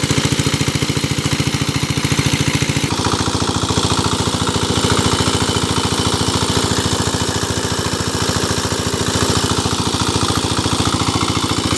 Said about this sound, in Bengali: এখানে 4 ঘোড়া ডিজেল ইঞ্জিন 3 ইঞ্চি ডেলিভারি সেচ পাম্প দিয়ে পানি উত্তোলন করে ফসলের জমিতে সেচ দেওয়া হচ্ছে